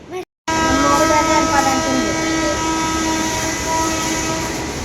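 A loud train rumbles past close by, its steady roar carrying a sustained droning horn tone after a brief moment of silence at the start.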